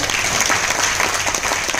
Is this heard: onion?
no